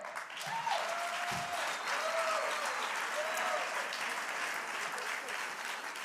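Sustained audience applause at a live political debate, dense steady clapping filling the whole stretch with a few faint voices calling out within it.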